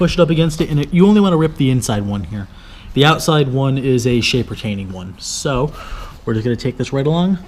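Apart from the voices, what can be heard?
None of the usual background noises is heard.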